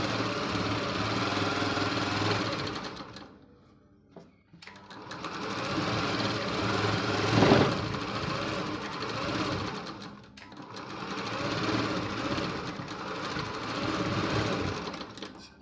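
A sewing machine stitches tucks on a blouse strip, a fast continuous mechanical whirr running in long bursts, broken by two short pauses, close and steady.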